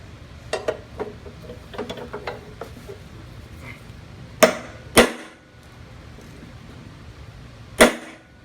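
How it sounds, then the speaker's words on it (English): Metal clanking and scraping as a pry bar and hammer remove a flywheel from a Craftsman engine, followed by a few sharp, loud hammer strikes on metal, spaced apart with quieter pauses between. "Pry bar and a hammer."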